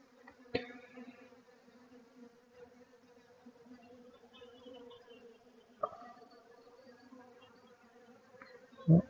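Honeybees drone steadily around beehives, a continuous close hum with a few sharp knocks and a louder thump at the very end.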